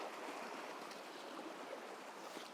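River rapids rush and churn as whitewater on a Finnish river run, a constant broad roar of water that stays close and fairly loud throughout, with no voices over it.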